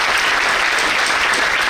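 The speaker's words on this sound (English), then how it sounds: "All of you are clapping for her because of this." Sustained audience applause at a national conference for chartered accountancy students, dense and loud, filling the whole stretch with no voices over it.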